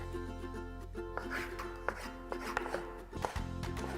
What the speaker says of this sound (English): We are done with the chopping here.